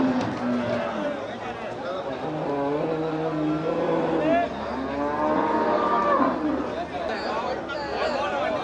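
Cattle moo repeatedly at the Melapalayam cattle market, several long, drawn-out calls overlapping one another up close, with people talking and market chatter in the background.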